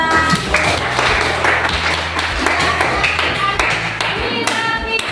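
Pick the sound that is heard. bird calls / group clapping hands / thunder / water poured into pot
group clapping hands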